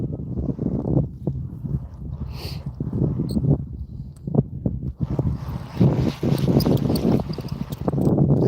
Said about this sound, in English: Gets a lot of wind out here.